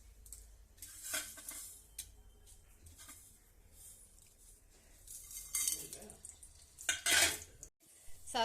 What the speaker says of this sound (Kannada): ಚಟ್ನಿಗೆ ಒಗ್ಗರಣೆ ಹಾಕೊಂತೀನಿ ರೀ.